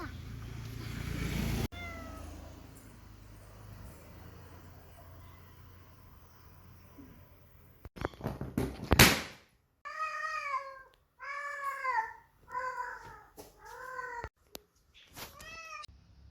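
A cat meows several times in quick succession after a sharp balloon pop, the calls fairly close and clear over a quiet outdoor background.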